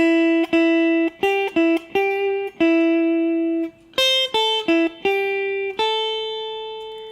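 Guitar playing the first half of a blues solo phrase: clean, distinct picked notes in a halting rhythm, a few held longer, played alone and up close.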